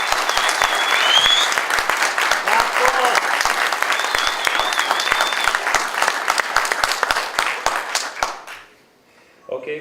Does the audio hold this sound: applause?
yes